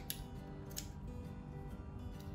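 Scissors snip fabric beside a zipper while sewing a cleat bag, a couple of crisp cuts close by over a steady low background hum.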